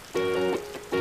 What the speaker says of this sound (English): It looks like it's going to rain all day.